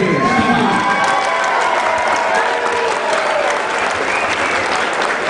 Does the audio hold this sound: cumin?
no